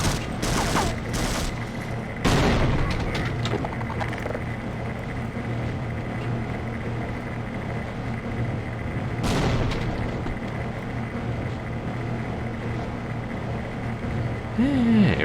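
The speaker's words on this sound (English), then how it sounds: "I'm guessing he dropped a grenade." Grenade explosions in the Half-Life video game: several heavy booms and blasts, loudest near the start and again midway, over a continuous rumbling game soundscape.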